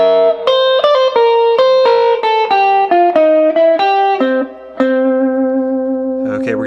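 A jump blues lick on electric guitar, slightly overdriven with a touch of reverb, picked at a slow tempo as a quick descending run of distinct notes that settles on a long sustained final note, loud and close.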